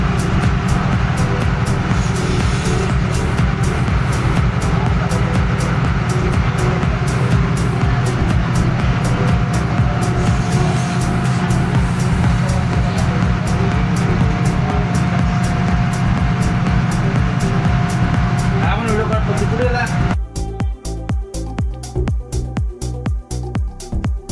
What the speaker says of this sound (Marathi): गाडी उतरवत आहे जेटीवर.